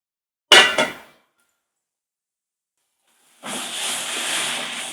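Squid masala gravy frying in a pan: a brief clatter, then silence, then a steady loud sizzling hiss that continues to the end.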